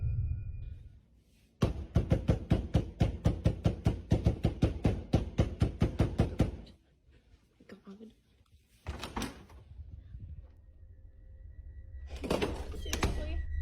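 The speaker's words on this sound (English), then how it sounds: "something is banging on the door until it stops when Sammy opens it" Something pounds on a door inside a home in a long, fast, steady run of heavy thuds, about twenty close strikes, then stops abruptly; afterwards there are quieter scattered sounds and what may be a voice.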